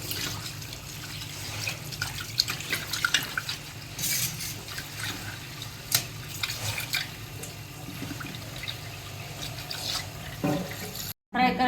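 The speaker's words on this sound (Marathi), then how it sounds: "आता आपण मासे धुवून घेऊ" Fish being washed by hand under running water, a continuous splashing, trickling rush with scattered drips and sloshes, fairly close, ending in a brief cut.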